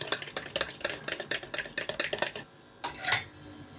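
Egg beaten with salt and pepper in a bowl: quick, close, rhythmic clicking strokes, then a short pause and one last sharper swipe.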